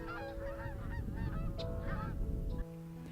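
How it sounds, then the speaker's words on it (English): Canada geese honking in a stopover flock in western New York during spring migration, many calls overlapping continuously and fairly loud, with a steady hum underneath that drops away near the end. "The Canadian geese are on the move, taking a break here in western New York on their migratory path back up north."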